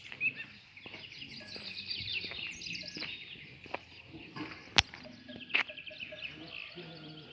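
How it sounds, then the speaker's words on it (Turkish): Birds chirp and call in green village countryside in Beşpınar near Vezirköprü, Samsun, with scattered tweets, a couple of sharp clicks and a faint background hum. "Kuş sesleri, kuş cıvıltıları."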